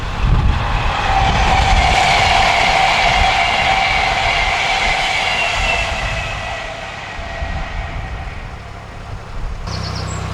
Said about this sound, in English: Comes the train now.